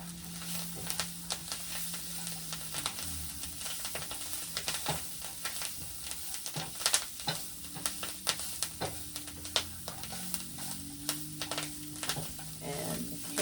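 Kale and sausage with garlic powder and Italian seasoning sizzle steadily in a hot pan, with repeated scraping stir strokes and clinks of a utensil close by, without any talk.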